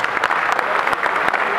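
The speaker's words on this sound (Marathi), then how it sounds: "रसिक प्रेक्षकांच्या जोरदार टाळ्यांचा आवाज आला पाहिजे शेवटपर्यंत" An audience at a statewide folk art festival applauds at Ravindra Natya Mandir, Prabhadevi, with a steady, dense wash of many hands clapping loudly and continuously.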